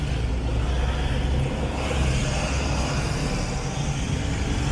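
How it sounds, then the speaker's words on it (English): Dense city road traffic rumbles steadily in Cebu City, Philippines, a loud, continuous wash of cars, trucks and buses passing close by, engines droning with no break. "the influx of the traffic is now starting to build up"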